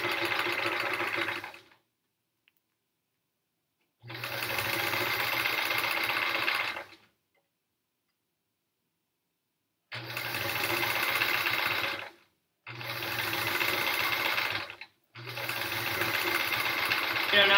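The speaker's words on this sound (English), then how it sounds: "now I'm thinking I probably should have done something maybe a little bit more random for the stitching" Sewing machine stitching fabric in loud, steady whirring bursts of a couple of seconds each, separated by silent pauses, close up and with no talk over it.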